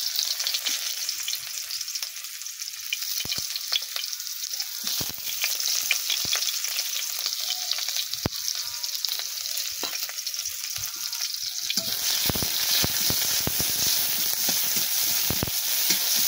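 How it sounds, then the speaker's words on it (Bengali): Onion frying in very hot oil in a kadai, a close, steady crackling sizzle that grows busier and more spattering toward the end, with occasional stirring scrapes. "পেঁয়াজটা একটু লাল লাল করে ভেজে নেব।"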